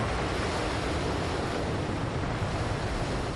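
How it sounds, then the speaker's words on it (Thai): The Atlantic Ocean bursting through a dam into cliffs in a great flood, heard as a dense, continuous roaring rush of water that stays loud and unbroken throughout. "มหาสมุทรแอตแลนติก ก็บุกไหลทะลักเข้าไปในกลุ่มหน้าผา"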